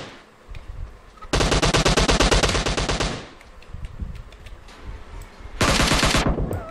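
Automatic gunfire from enemy weapons in PUBG Mobile's Team Death Match mode, two loud rapid bursts of about two seconds and one second, separated by quieter game ambience.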